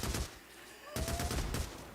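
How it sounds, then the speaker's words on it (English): Rapid volleys of gunfire in a video game horde fight, dense bursts of shots that pause briefly and then resume, loud and continuous with no talking. "The gunfire can be really hypnotizing."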